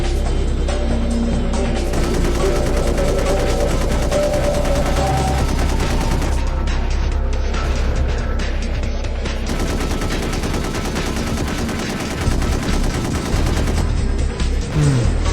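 Sustained rapid gunfire and machine-gun bursts in the Gun Metal video game as an eastern defense gun comes under attack, loud and continuous with dense overlapping shots throughout.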